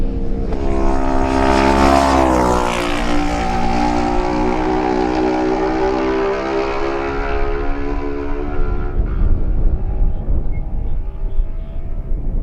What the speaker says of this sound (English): Next in view is number 16, Stephen Horn on his Kawasaki.